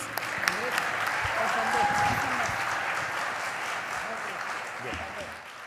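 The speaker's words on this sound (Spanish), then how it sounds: "este es el aplauso del público para vos" Audience applause after a singing audition in a senior-category competition, a broad steady wash of clapping that swells slightly then holds, with a voice speaking faintly over it.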